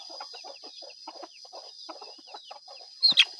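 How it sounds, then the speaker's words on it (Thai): Free-range farm chickens cluck softly and irregularly close by, ending in two louder, sharper squawks. "เลี้ยงไก่เลี้ยงเป็ด"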